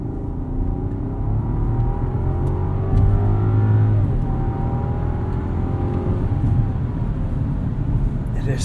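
A 2022 Rolls-Royce Cullinan pulls hard from 0 to 60, its smooth engine note rising steadily as a low, muted interior drone with faint tire and road noise, recorded from inside the cabin.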